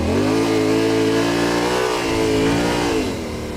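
A Yamaha Tenere 700 adventure motorcycle braking and then accelerating into a drift, its engine droning loud and close with the pitch dipping and rising under the throttle.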